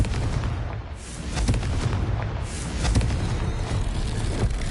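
A booming Confringo blasting-spell explosion from a video game, heavy and rumbling with crackling bursts that roll on continuously for several seconds at close, loud range.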